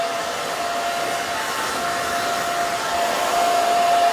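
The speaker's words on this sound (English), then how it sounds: "I'm just blow drying this forward." A handheld blow dryer drives a steady, loud airflow roar with a faint whine as hair is dried forward during a pixie haircut styling session, continuous and close with no pauses.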